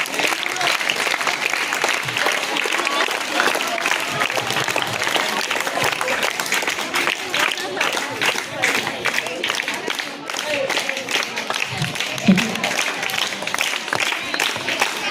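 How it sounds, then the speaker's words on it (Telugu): Students applaud at a Teachers' Day celebration at ZPHS Konidela school, a dense, sustained crackle of many hands clapping that continues for the whole stretch at steady loudness, with a few voices beneath. "కొట్టండి, క్లాప్స్ కొట్టండి."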